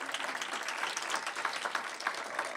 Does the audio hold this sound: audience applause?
yes